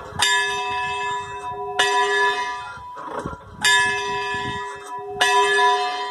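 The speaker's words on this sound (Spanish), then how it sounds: "Y siempre que venimos, sonamos la campana." The hand-rung bell of the San Juan de Nepomuceno hermitage, high in La Serratella at about 1000 m, sounds four loud, close strikes. Each long ringing tone overlaps the next, with a brief murmur of voices between strokes.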